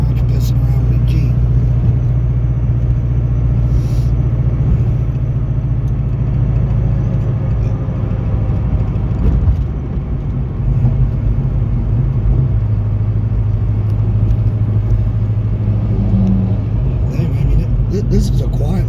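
A car cruises at about 35 mph through a quiet little town, giving a steady, loud engine and road rumble throughout, with a person talking over it.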